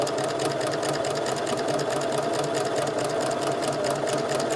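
A sewing machine stitches a short stitch length of about 1.2 in a steady, continuous rapid whir with a fast rhythmic chatter, close and loud, and no one speaking.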